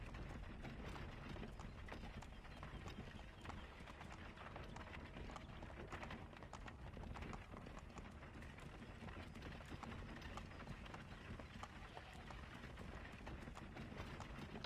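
Horse hooves thud in a continuous, rapid galloping rhythm through the whole stretch in Assassin's Creed 3, a quiet, busy clatter with no speech.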